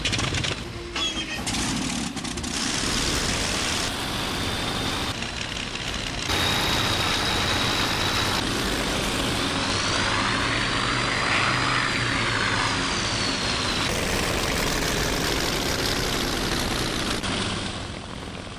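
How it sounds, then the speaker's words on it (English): A powerful World War II German warplane engine roars steadily, joined by other engines of the flight starting nearby, a loud continuous propeller drone with rising and falling whine. "My engine at once thunders into life."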